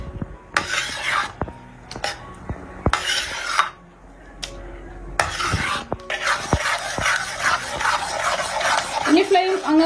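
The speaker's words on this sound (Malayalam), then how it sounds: "നന്നായിട്ടൊന്ന് ഇളക്കി മിക്സ് ചെയ്ത് ഒന്ന് യോജിപ്പിച്ചെടുക്കാം" Melted palm jaggery is stirred into a thick lehyam mixture in a pan: a spoon scrapes in repeated strokes, with short gaps and sharp clinks against the metal, and some soft background clatter.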